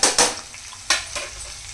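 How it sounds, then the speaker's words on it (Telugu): Onions and tomato puree frying in a pan for an omelette curry, heard as a few sharp stirring scrapes and clatters over a soft, steady sizzle. "ఆనియన్స్ కూడా ఫ్రై అయిపోయినాయి."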